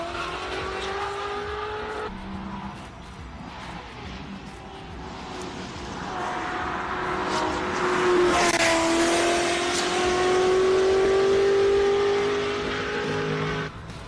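A 1969 Lola race car with a 6.2 litre engine drones loudly on track, its pitch sweeping and rising as it passes close, with a brief tire squeal and sustained throttle, no voices over it.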